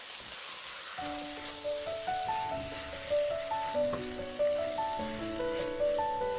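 Seasoned vegetables stir-fried in a pan with rice wine, chili powder, minced garlic and green onion, a steady close sizzle with soft tossing clatter after a quiet first second.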